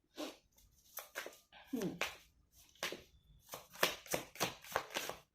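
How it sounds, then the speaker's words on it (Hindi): Tarot cards are laid down one after another in a series of crisp, papery slaps and flicks, close and fairly quiet. Someone talks intermittently between the placements. "जिस सीक्वेंस में गिरे थे ना, मैं उसी सीक्वेंस में रख देती हूँ कार्ड्स को।"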